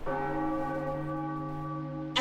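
A bell rung in The Legend of Zelda: Wind Waker, one sustained ringing tone with steady layered overtones that hangs loud and even for about two seconds before a sharp new strike at the end.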